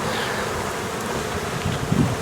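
Honey bees hum steadily over a hive frame during a package installation, a dense, even buzz that fills the whole moment, with a few louder swells near the end.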